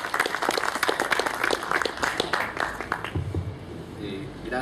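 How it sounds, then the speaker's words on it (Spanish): Lively audience applause at a Spanish-language book presentation welcoming an economist to speak, sharp claps for about three seconds before dying away, followed by quieter room sounds and a voice beginning to talk. "Recibamos con un fuerte aplauso al señor economista Germán Alarco."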